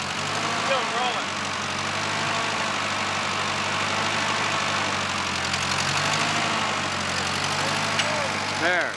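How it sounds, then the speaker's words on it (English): Small tractor engine idling steadily at a log home build site, a continuous close, loud low rumble throughout with a few faint voices in the background. "Little tractor."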